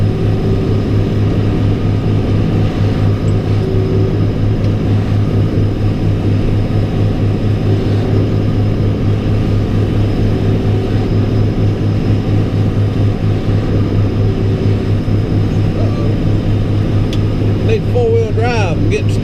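A tractor-driven snow blower runs close by with a constant heavy engine drone and humming blower tones, steady throughout, with a voice talking over it now and then.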